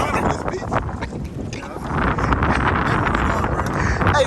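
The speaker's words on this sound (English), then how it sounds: "the wind taking up" Wind gusting over a small fishing boat on open water, a steady broadband rush that swells louder about halfway through and stays strong, with no talk over it.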